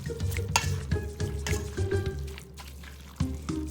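Pork in a slow cooker is mixed with a light dusting of Pit Boss hickory bacon seasoning for pulled pork, making continuous wet, squelching stirring sounds with soft scrapes, close and moderately loud.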